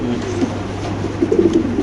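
Fancy pigeons at a pigeon farm give soft, low cooing calls, close by, over a steady low hum.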